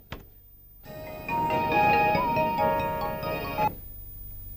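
A phone ringtone plays an electronic melody for an incoming call, starting after a brief click and continuing for about three seconds at moderate volume before cutting off.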